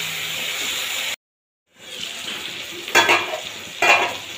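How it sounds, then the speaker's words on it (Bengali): Potato pieces and flat beans stir-fried with a little water in a pan: close sizzling and spatula scraping, cut off by a brief silent gap, then resuming with two louder stirring scrapes. "তারপর দেবো সিম, দিয়ে এটাকে খুব ভালোভাবে কষিয়ে নেব।"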